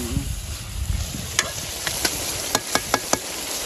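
Masala spices frying in a pan for mutton curry, a steady broadband sizzle with soft stirring scrapes, ending in several sharp clicks of a spoon against the pan.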